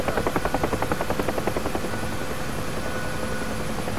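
Helicopter in the combat flight simulator DCS World: a loud, steady rotor thump, fast and rhythmic at first, then blending into a continuous engine drone, with no talking.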